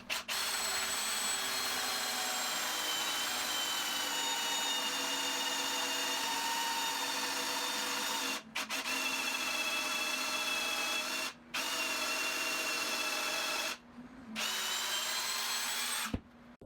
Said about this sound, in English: So I ended up bringing the shelf down to the floor to drill out the 3/4 inch holes 6 inches